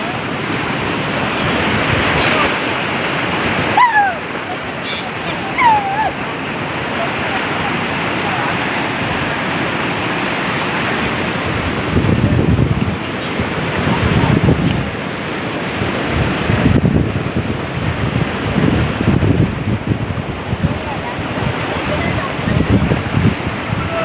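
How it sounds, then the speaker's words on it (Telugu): Sea waves roll in and break on a beach in repeated surging washes, with wind buffeting the microphone and voices talking now and then. "అలలు వస్తున్నాయా"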